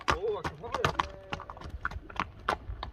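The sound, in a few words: horse hooves clip-clopping as racing horse moves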